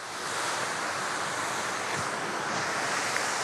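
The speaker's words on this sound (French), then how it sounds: "Voici le Saut du Gendarme, une cascade de 10 mètres" A constant broadband rush of falling water, steady and fairly loud, from a 10-metre waterfall, the Saut du Gendarme in Martinique, heard from nearby, with no voices.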